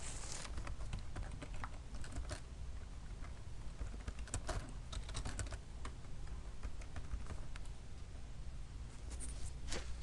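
A database query is typed on a computer keyboard as a continuous patter of soft key taps over a steady low room hum, fairly quiet and close.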